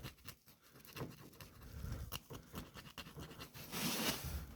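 Grime scraped off an 850 RPM motor's nameplate with a tool, heard as irregular close scratching strokes with brief pauses, ending in a denser burst of harsh scraping.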